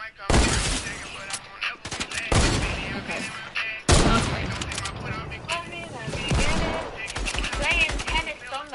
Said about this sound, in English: I didn't even see you there and I just shot